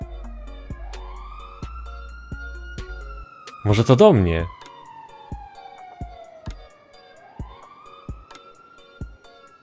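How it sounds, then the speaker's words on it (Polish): An in-game ambulance siren from GTA Online on FiveM wails in slow rising and falling sweeps, approaching and loud, while someone talks over it and rhythmic clicking taps run underneath. "O, jest, ambulance."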